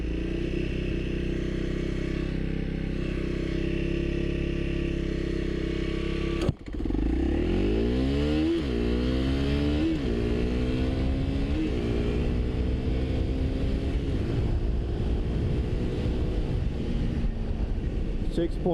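A 2025 Honda CRF300L dual-sport motorcycle idles, then launches hard in a 0-60 run. The engine climbs through several quick upshifts, with each gear change dropping and rebuilding the pitch, loud and close.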